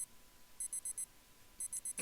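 A video game alarm clock from DDLC World of Dreams rings in two bursts of rapid high electronic beeps, four pulses each, separated by a short pause, fairly quiet and with no voices.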